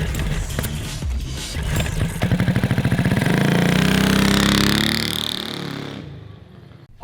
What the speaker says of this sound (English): our turbocharged Predator 420cc engine is going to make more boost and hopefully get more powerful